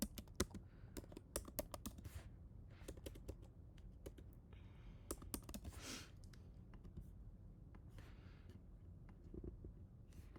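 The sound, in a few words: typing text on a computer keyboard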